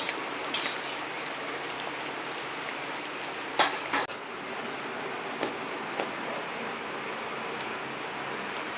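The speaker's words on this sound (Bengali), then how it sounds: "মালপোয়া কিন্তু ব্রাউন করে ভাজতে হবে" Malpua batter frying in oil gives a steady, moderately loud crackling sizzle throughout, with a few sharper pops and spits standing out along the way.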